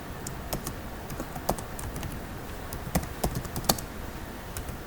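C++ code is typed on a computer keyboard, a soft, quiet run of irregular key clicks with occasional sharper taps.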